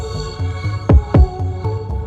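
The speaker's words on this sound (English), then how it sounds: "it's just the kick with that bass pattern" A trap beat for TV made in Studio One Pro 7 thumps along with a deep kick drum and bass pattern, two heavier booming hits landing mid-phrase over a steady, throbbing low groove.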